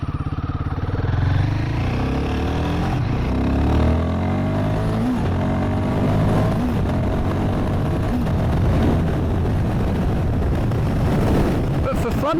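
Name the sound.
Royal Enfield Guerrilla 450 motorcycle engine while riding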